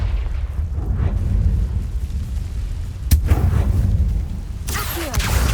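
Confringo fire-blast spell in Hogwarts Legacy, heavy rumbling booms with a sharp crack near the middle and a whooshing burst toward the end, loud and close.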